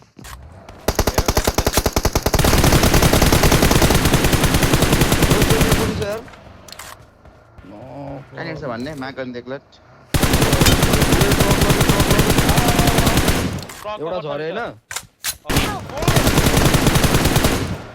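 Automatic gunfire in a PUBG Mobile scrim match comes in long, dense rapid-fire bursts, loud and close, broken by short pauses in which voices talk over quieter game sounds.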